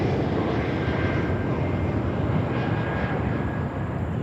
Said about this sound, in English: And we have the next 380 from Emirates arriving at 2:30 p.m. today, Eastern Time.